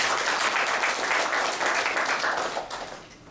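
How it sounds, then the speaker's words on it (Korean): Applause from an audience at an aviation industry development forum, greeting a Korean Air executive; dense, steady clapping from many hands that tapers off near the end. "최두환 대한항공 상무님께 박수"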